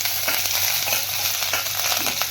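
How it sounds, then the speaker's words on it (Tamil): Mustard seeds and curry leaves sizzle and crackle steadily in hot oil for a rasam tempering, a dense close hiss with small pops and occasional stirring. "நல்லா கடுகு வச்சுட்டு கருவேப்பிலை போட்டுக்கணும்."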